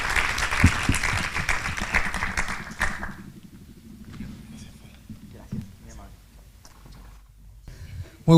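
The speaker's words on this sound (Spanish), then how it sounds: "le damos un aplauso a Fernando." A symposium audience on small-business financing gives a round of applause that lasts about three seconds and stops abruptly, followed by quiet room noise with faint taps and murmured voices.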